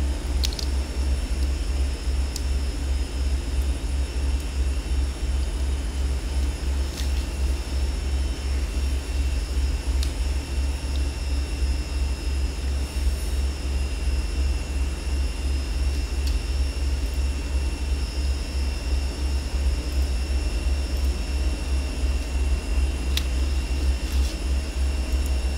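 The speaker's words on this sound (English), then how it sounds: "Beechcraft Duke at the GA apron is taxiing runway 15" Twin piston engines of a Beechcraft Duke BE60 idling while taxiing out at Rockhampton's GA apron in FSX, a steady loud drone with a low throbbing pulse and constant higher whine, no talk.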